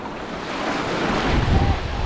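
Sea waves wash steadily onto the shore at Tiruchendur, a broad, continuous roar of surf mixed with gusty wind buffeting the microphone, with a heavier surge toward the end.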